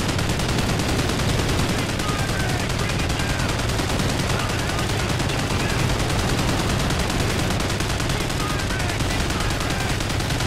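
Call of Duty Ghosts campaign gunfire during the Homecoming mission, a loud, unbroken wall of rapid shooting and battle noise filling the whole stretch at steady volume.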